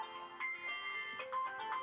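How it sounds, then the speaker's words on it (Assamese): A phone ringtone chimes for an incoming call, a short melodic tone sequence repeating, fairly faint and close, with no one speaking over it. "পাপা ফোন আহিছে"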